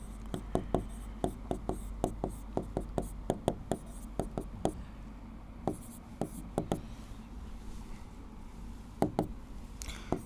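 Code is written by hand with a pen on paper, producing a rapid series of close, crisp taps and scratches in quick bursts with brief pauses, fairly quiet against a low room hum.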